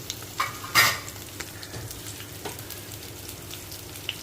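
Garlic sizzles in hot peanut oil in a pan, with a sharp crackling burst early on that settles into a steady, moderate frying hiss.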